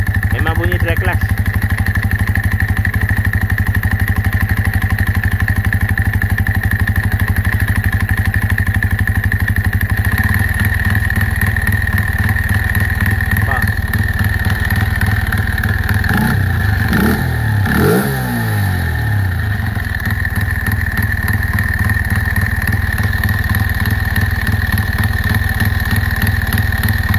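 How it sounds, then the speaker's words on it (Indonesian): A Yamaha Y15 motorcycle engine with a dry clutch runs loudly and steadily, with a dry, rattling clutch clatter beneath the idle and a brief rev in the middle. "Memang bunyi dry clutch."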